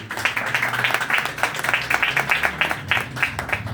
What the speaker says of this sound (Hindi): अपने खुदा के लिए जोरदार तालियां बजाएंगे।